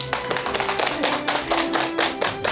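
An audience at a stage talk show claps as a guest author is welcomed onstage, a brisk burst of many hands with sharp, dense slaps throughout.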